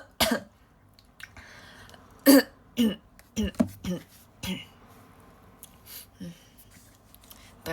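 Repeated coughs and throat clearing in irregular bursts during a livestream, fairly close and loud, separated by short quiet gaps.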